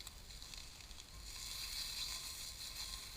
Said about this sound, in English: we got that little sizzle going